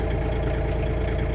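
A John Deere 3039R compact tractor's diesel engine idles slightly high after a cold start in 14-degree weather, with a steady, close, rumbling drone throughout and no talk.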